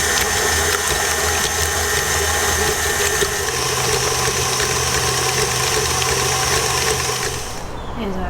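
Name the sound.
electric mixer whisking gluten-free mixture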